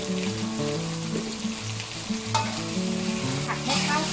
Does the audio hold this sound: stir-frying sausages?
yes